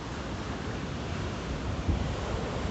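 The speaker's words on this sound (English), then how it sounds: "Beautiful tree and the waves crashing at Butterfly Beach in beautiful Montecito, California." Ocean waves washing ashore at Butterfly Beach in Montecito, California, on a breezy morning, heard as a steady broad surf roar with wind buffeting the microphone and no voices.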